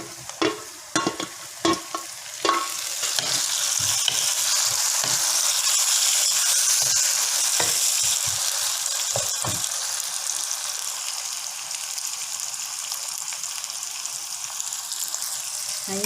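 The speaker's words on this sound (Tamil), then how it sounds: "இப்போ நான் தக்காளியை போடுறேன்." Tomatoes hit a hot pan for mutton curry and fry with a steady bright sizzle, opening with several sharp clacks of stirring, then settling into continuous close crackling.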